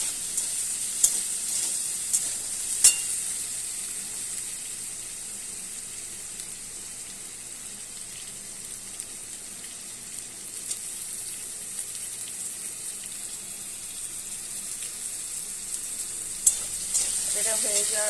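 Potatoes frying in a pan, a long steady hiss of sizzling oil with occasional faint scrapes and clicks of stirring, close and quiet, no talking.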